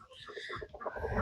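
Chickens cluck and mutter close by on a farm while rain falls, soft clucks and fowl calls overlapping in a short burst under steady background noise.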